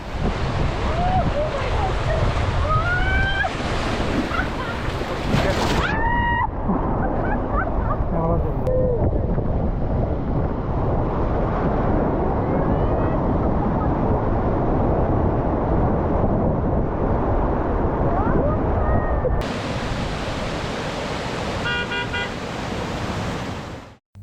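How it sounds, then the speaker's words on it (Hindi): The fast-flowing Kunhar river near Balakot in the Naran Kaghan area rushes with a loud, continuous roar, mixed with wind buffeting the microphone and a few distant vehicle horn toots. "दरिया बहुत ज़्यादा तेज़ हो गया है।"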